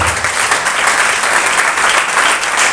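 A church congregation at a Sunday service breaks into loud, sustained applause, dense and even throughout with no pauses, filling the room close by.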